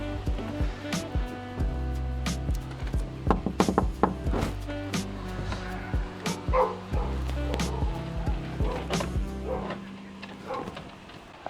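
Dogs in a household bark in bursts as one charges a door during a training visit. The barks are sharp, loud and irregular, with yips, some knocking and thumping, and a quieter stretch near the end.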